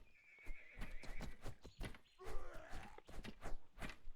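Horses in the strategy game 0 A.D. neighing and whinnying over a rhythmic clip-clop of hooves, several sharp hoof strikes spaced through the clip.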